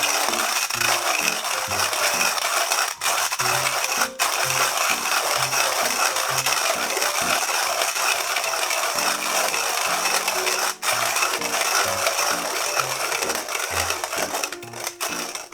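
Coffee beans are ground by hand in a Timemore X Lite grinder, a steady close crunching and gritty rasp repeating with each turn of the crank, with a few sharp clicks along the way.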